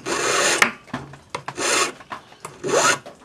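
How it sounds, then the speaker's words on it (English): A hand file rasps along a coin ring wire to cut a long taper, making repeated close scraping strokes in an even back-and-forth rhythm, each stroke a gritty rub with short pauses between, no voices. "So just file a long taper until it disappears at the end."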